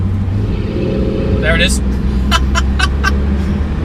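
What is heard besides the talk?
Porsche 918 Spyder V8 engine kicking in while driving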